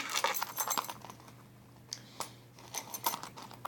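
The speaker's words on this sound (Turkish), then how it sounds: "Şöyle anahtarlıklar." Keychains from a school bag jangle and clink in several short metallic bursts, close and fairly quiet, with pauses between the shakes.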